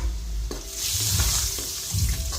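Cumin-coriander powder frying in a pan, a soft hiss with intermittent scraping and stirring clatter close by.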